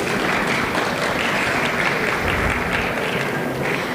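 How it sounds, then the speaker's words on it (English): A large crowd at an Onam celebration in Melbourne applauds a choir loudly and steadily, dense clapping filling the whole stretch without a break. "Please give our choir a big round of applause."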